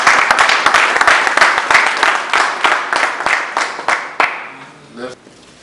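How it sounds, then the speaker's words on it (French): An audience at a public gathering breaks into loud, sustained applause, a dense rhythmic clapping that carries on steadily before tapering off near the end. "on l'acclame très fort"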